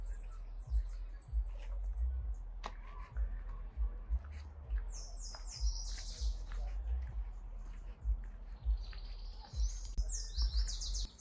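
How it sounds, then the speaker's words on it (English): Birds chirp and sing all around outdoors along the riverwalk in Star, Idaho, bright repeated calls over a low rumbling background with occasional thumps, fairly faint. "Can you guys hear these birds all around me?"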